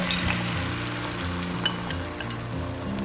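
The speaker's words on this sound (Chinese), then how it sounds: "中小火煎，先不要翻动它" A beaten egg and pickled radish mixture fries undisturbed in a pan over medium-low heat, giving a gentle, even sizzle with a light clink or two.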